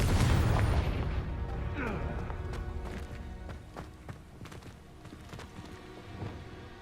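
A Confringo fire spell explodes in the video game Hogwarts Legacy, opening with a deep booming blast that rumbles and fades into softer game sounds and scattered footstep-like taps.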